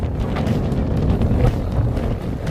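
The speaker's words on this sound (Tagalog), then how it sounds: "Lakas ng hangin." Strong wind at the Jezzine Barracks and Kissing Point lookout in Townsville buffets the microphone in a loud, continuous roar with gusty surges, no voices heard.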